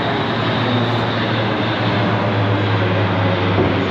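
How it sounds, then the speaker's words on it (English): A parachute plane passes overhead at a farm, a continuous droning engine roar that stays loud and steady throughout. "Got the old parachutes plane coming over now"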